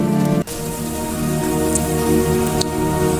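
Steady rain falls as a story sound effect, a dense continuous patter of drops hitting a surface, loud and close throughout with no voices.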